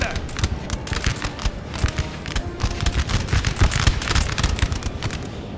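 Musket fire in a Napoleon: Total War battle on grassy flats, with dense crackling volleys and scattered shots going on throughout, mostly at a distance, under a voice talking.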